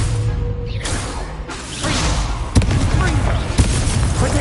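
Incendio fire spell cast in Hogwarts Legacy: loud whooshing bursts and booming impacts arrive in several waves over a dense game-combat bed, with a sharp hit partway through.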